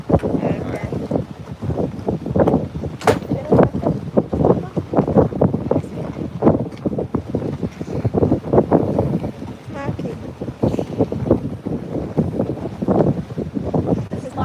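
Wind gusting across the open deck of a tour boat, buffeting the microphone in a steady rumble beneath a person speaking continuously.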